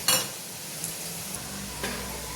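Onion and corn bhaji fry gently in oil over a low flame, giving a soft, continuous sizzle broken by a few light clinks and scrapes of a utensil against the pan.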